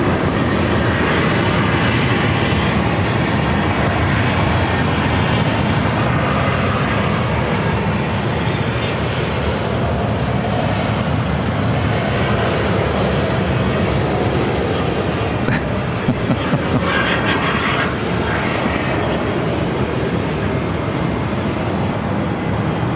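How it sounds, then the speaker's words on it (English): Southwest Airlines Boeing 737-800 arriving from Chicago Midway at Phoenix airport, a steady broadband jet roar that holds loud and even throughout, with faint talk beneath it. "This is Southwest Airlines, flight 2600, coming in from Chicago Midway on a 737-800."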